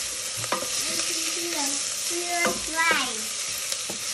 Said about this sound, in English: Gonna add in our ginger garlic paste